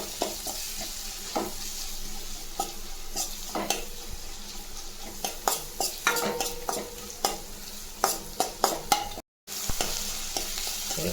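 Chopped vegetables sautéing with asafoetida in a pan for tomato kuzhambu: a low sizzle beneath repeated sharp scrapes and knocks of a spoon on the pan, close by, with one brief dropout near the end and no talking.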